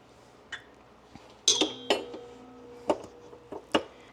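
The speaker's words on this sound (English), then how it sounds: "I go ahead and take off the whisk attachment and then replace it for the other paddle attachment." Stand mixer attachments being swapped, a whisk pulled off and a paddle fitted, giving several sharp metallic clinks and knocks spaced irregularly at close range over a quiet kitchen background, with no talking.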